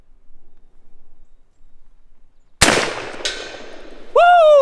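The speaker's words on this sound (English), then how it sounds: "I'm going to take a shot down through there" Sharp, loud crack of an Airforce Talon/Condor air rifle in an RMPA precision chassis, fired outdoors after quiet, with a brief echoing tail, followed by a second fainter impact and a voice rising in excitement.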